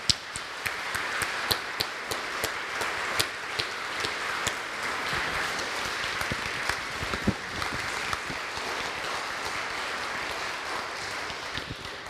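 An audience at an open meeting about a garden claps after a talk, a sustained, moderately distant applause of many hands with a few sharper individual claps standing out, no voices.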